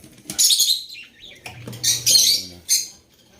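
Pet cockatiels in a cage give several loud, close, harsh squawks and raspy chirps in short bursts, with brief pauses and faint rustling between calls.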